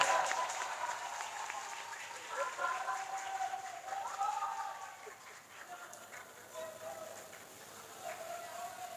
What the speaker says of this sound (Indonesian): tepuk tangan untuk Santri Putra.